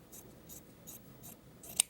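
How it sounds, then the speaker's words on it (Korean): Scissors snip through fabric in a sewing reform class, with a series of soft, regular blade closes and a sharper final cut, close and fairly quiet. "중앙을 뚝 자르세요."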